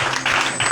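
A church congregation at a Sunday school closing ceremony claps in a dense, steady burst of applause, loud and close with no talking.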